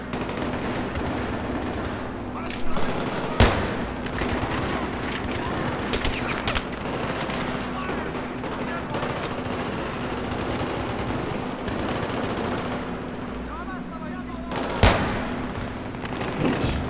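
Gunfire in Battlefield 3 rattles on through a long firefight, with bursts of automatic fire and a few sharp louder shots over a steady hum of background battle noise.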